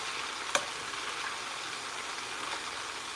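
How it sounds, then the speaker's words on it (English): Salmon fillets frying in a pan, a steady soft sizzle throughout with one sharp clink near the start. "when you frying salmon, you got to be real careful because it'll split up on you"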